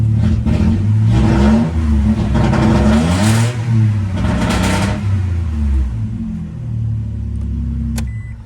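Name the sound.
Toyota Alphard engine revving, muffler partly missing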